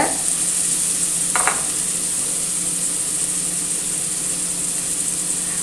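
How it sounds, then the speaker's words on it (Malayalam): Chopped onion and curry leaves sauté in a hot pan for ghee rice and chicken mulakitta, giving a steady close sizzle throughout with one brief scrape of a spoon near the start. "ഇത് നല്ലോണം ഒന്ന് വഴറ്റിയെടുക്കാം നമുക്ക് അതിൻ്റെ കൂടെ ഒരു സവാള അരിഞ്ഞതും കൂടി ഇട്ട് കൊടുക്കുന്നുണ്ട് കുറച്ച് കറിവേപ്പില ഇട്ട് കൊടുക്കുന്നുണ്ട്"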